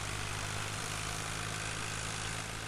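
A tractor pulling a baler in Farming Simulator 2013 drones with a steady, low engine hum and even broadband noise, constant and unbroken, heard alone at moderate distance.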